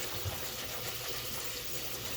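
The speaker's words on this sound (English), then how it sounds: "we're going to rinse with some cold water" Cold tap water runs steadily over cooked spaghetti in a kitchen, a continuous close, broadband rush of flowing and splashing water with no pauses.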